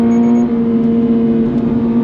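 A 2024 Subaru BRZ tS with its 2.4-liter flat-four engine revs close up, giving a steady, loud, buzzing engine drone with no talk over it.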